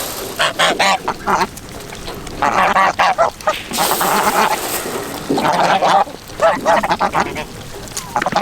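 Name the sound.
geese hissing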